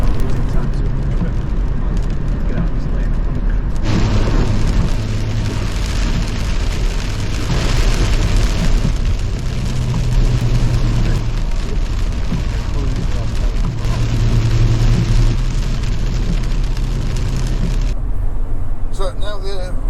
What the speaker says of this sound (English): the rain and weather's eased off a little bit